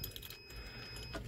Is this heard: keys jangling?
yes